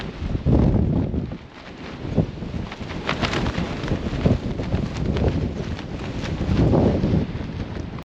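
Strong gusts buffet a tent and microphone at an exposed summit camp in a forecast 50mph wind, a loud, rumbling roar that swells and eases in waves throughout.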